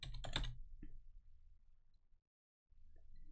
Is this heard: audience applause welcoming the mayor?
no